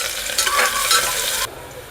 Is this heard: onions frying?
yes